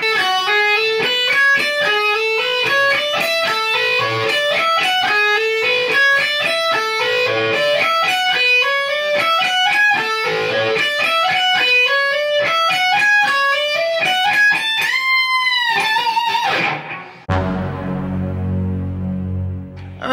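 A slow, clean electric guitar lick of single notes and bends, ending in a wide bend before a brief low rumble.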